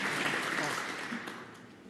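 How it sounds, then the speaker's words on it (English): Faint, brief round of applause from a snooker arena audience, soft steady clapping tapering off over about two seconds. "Generous round of applause and no wonder."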